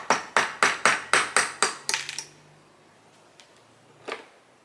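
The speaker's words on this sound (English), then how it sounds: "we're going to now take this and just tap it with a metal rod to get the nib out." A metal rod taps a fountain pen to knock the nib out, giving eight sharp, evenly spaced knocks up close, then a pause and one lighter tap.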